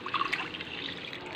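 Water is poured into a pot of mixed dal, a faint splashing trickle with a few brighter drips at the start, then a steady soft pour.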